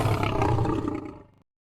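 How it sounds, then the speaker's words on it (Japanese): A lion gives one deep, loud, rumbling roar that lasts over a second and then tapers off into silence. "ライオン、"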